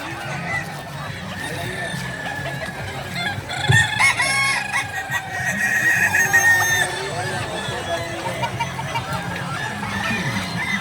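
Kukuak Balenggek roosters crow repeatedly in long, wavering calls, close and loud, with clucking and other fowl sounds and some voices in the background, at a gathering of many of these chickens in Padang.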